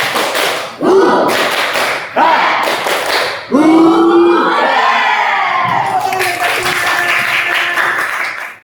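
A Grade 12 science class chants the 'tepuk huha' clapping routine together in a classroom, with loud unison shouts over sharp rhythmic claps in several bursts.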